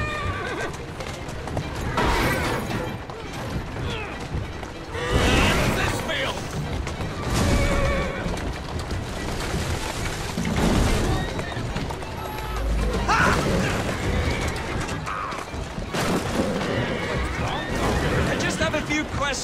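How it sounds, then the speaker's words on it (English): A horse in the Assassin's Creed Syndicate video game whinnies loudly over steady clip-clopping hooves and busy game sound, with voices talking throughout. "Who's a good horse? You are."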